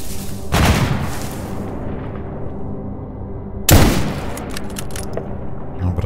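Gunfire in the video game STALKER GAMMA: two loud, sharp shot bursts about three seconds apart, each trailing off into a rumbling echo, over a quieter ambient background.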